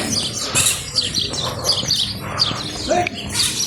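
Parrot calls ring out in short chirping bursts at an outdoor cattle and dairy farm near the feedlot area, mid-distance over a busy bed of other birdsong and faint background voices.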